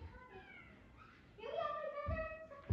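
A cat meows a few times at a birthday gathering, with a short rising mew followed by a louder, longer call near the end, while children talk softly in the background.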